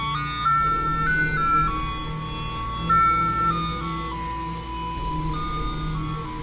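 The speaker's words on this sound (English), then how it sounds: "when you hear these sounds, you know that's an ice cream truck out there" Ice cream truck jingle playing a steady melodic tune of bright, bell-like tones that step through a repeating phrase, moderately loud with a low background hum underneath and no talking.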